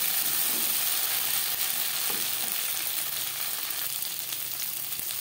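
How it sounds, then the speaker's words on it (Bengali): Slit green chillies frying in hot oil for a fish curry, a steady, close, loud sizzle that runs without a break and is joined by a few faint stirring scrapes. "দু 3 মিনিট ভেজে নেওয়ার পর দিয়ে দেব 5-6টা চেরা কাঁচা লঙ্কা।"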